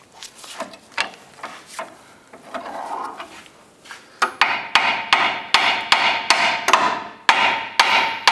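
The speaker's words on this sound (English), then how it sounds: "Go ahead and tap your chisel free." A hammer taps a chisel free on a 2008-2013 Nissan Rogue front lower control arm: softer scattered knocks at first, then a string of about ten sharp, loud, evenly spaced metallic strikes close by.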